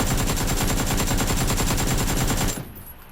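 Sustained full-auto spray from an AKM rifle in PUBG, a fast even rattle of shots, loud and close, stopping abruptly after about two and a half seconds.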